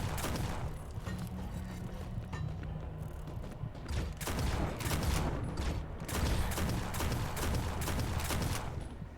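Rapid gunfire in the video game Lovecraft's Untold Stories, dense bursts of repeated shots and booms that run almost nonstop at steady loudness, with no talking.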